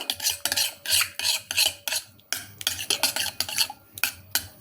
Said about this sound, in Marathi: आता हे दोन्ही छान मी मिक्स करून घेतेय